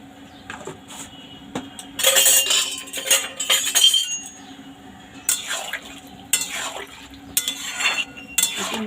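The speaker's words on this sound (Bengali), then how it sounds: "একটু নেড়ে দিলাম।" Chopped green jackfruit is stirred by hand in warm salted water in a pot, with scattered bursts of clinking, scraping and sloshing separated by brief quieter pauses.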